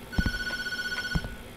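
A telephone rings in the horror game Tattletail, a buzzing electronic ring with two sharp bursts and a sustained tone between, close and clear over a quiet background.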